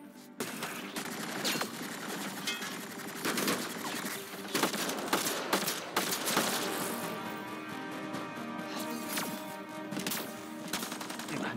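Rapid automatic gunfire in the Mass Effect Andromeda video game, loud dense bursts and cracks over about eleven seconds, with game music and effects mixed underneath.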